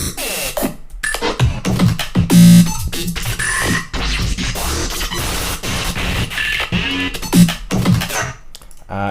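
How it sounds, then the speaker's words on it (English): Glitch effects from Chamberlain's Alchemy sample pack play as loud, choppy bursts of stuttering, chopped-up sound with abrupt cuts and brief tonal blips, alone with no voice. "Glitch effects, which I obviously use a bunch."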